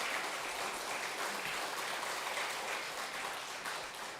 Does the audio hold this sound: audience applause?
yes